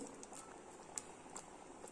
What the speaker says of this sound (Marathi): याला बरी खळखळून अशी उकळी काढून घेऊया आता खळखळून उकळी आहे